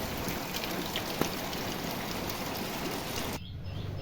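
Morning rain pours steadily in a rural courtyard, a dense, even hiss of drops that stays loud and close, then thins abruptly just before the end.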